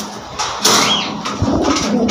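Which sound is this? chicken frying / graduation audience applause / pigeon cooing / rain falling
pigeon cooing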